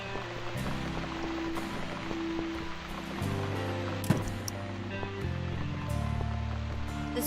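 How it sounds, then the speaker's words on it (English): Steady rain falling in the video game The Cat Lady, a continuous wash of patter over low sustained ambient tones and music, with a brief thump around the middle. "Still raining."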